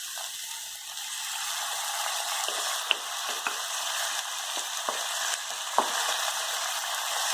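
Ground tomatoes sautéing with garlic and ginger in a hot pan give a steady, close sizzle, with a few light clicks and scrapes from stirring.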